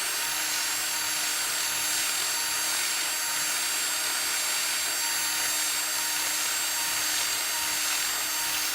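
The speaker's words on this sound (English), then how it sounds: "As I hog out a part with a drill." A drill hogging out a part on a DIY milling machine gives a steady, dense high-pitched whir with a constant tonal whine, unbroken and fairly loud for the whole stretch.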